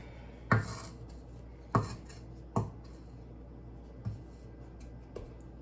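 Sugar cookie dough being mixed by hand in a bowl, a few spaced, dull thumps and scrapes that fade as the mixing goes on, close, with a quiet background.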